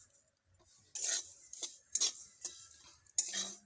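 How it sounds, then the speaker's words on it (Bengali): Sesame seeds being dry-roasted for sesame pitha and stirred in a pan, heard as a few short, close scraping and clicking strokes of a utensil separated by quiet pauses, with no talking. "হালকা ভাজা হচ্ছে, আর একটু ভাজা হলেই হয়ে যাবে"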